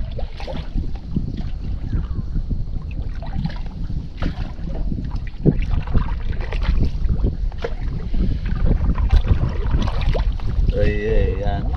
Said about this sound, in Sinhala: ඇවිල්ලා අපි පදිමු පාරු.